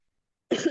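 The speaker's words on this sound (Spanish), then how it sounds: "Tengo un poco de tos." A single short cough from a man during a sermon, close and moderately loud after silence.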